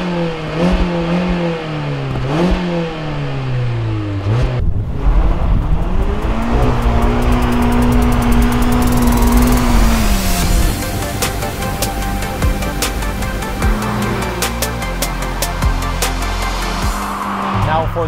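2022 Mazda MX-5 RF roadster driving with the top closed: engine revs climb and fall through gear changes, then settle into a sustained, loud drone with rising pitch, close and continuous throughout.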